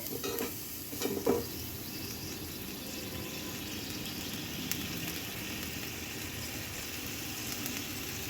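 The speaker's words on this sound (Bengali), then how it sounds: "দেখুন, জলটা ফুটে উঠবে" Water with fried spices heats toward a boil in a pan, giving a soft, steady bubbling hiss at low volume, with a few brief utensil knocks near the start.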